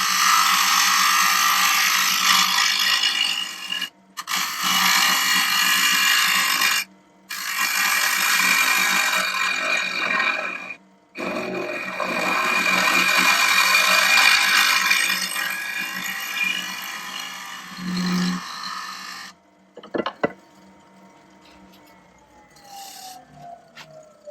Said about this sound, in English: Really nice and pleasing when you get nice thin ribbons of wood coming off.